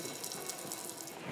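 Basque cider (sagardo) streams from a height into a glass, a steady close splashing pour with a fizzy, frothy hiss and no talking.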